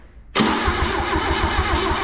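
A turbocharged 250 straight-six engine in a thrifted car, just revived with a good battery, fires abruptly after near silence. It settles straight into a loud, steady idle close by.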